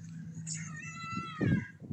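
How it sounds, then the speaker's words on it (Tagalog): A cat meows indoors, with a short high mew followed by a louder, longer cry, heard close by over faint background murmur and room noise. "Uy, may miming."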